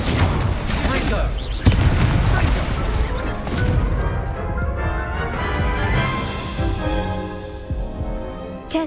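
A Confringo explosive spell blast in Hogwarts Legacy booms amid dense layered game effects and music, with a sharp crash near the two-second mark and a continuous loud, busy mix throughout.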